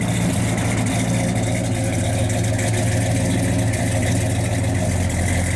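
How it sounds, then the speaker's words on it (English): A 1968 Chevrolet Chevelle SS 396 with Flowmaster dual exhaust idles loudly and steadily close by, its deep, even rumble filling the whole stretch without a break. "Does have Flowmaster dual exhaust on it."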